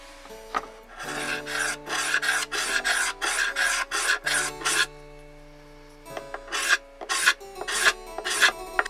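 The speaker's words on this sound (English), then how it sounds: "Now here I am sharpening my chalk" Tailor's chalk being sharpened, heard as a run of close, rhythmic rasping strokes against a file, about a dozen quick scrapes, a short pause, then several more strokes, with no talking.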